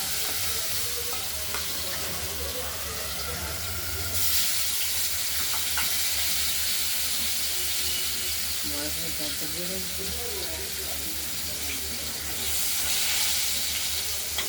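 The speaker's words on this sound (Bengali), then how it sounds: "আলুগুলোকে আমরা একটু হালকা ভেজে নেব।" Cut potatoes fry lightly in oil tempered with bay leaf and nigella seeds for a koi fish curry, producing a steady close sizzle that swells at moments as they are stirred, with occasional soft scraping.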